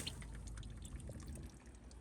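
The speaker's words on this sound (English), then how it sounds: "Oh, lovely radiator is leaking." Coolant leaking from the radiator of a Nissan Qashqai 1.5 dCi falls in small, irregular drips over a low, muffled workshop background.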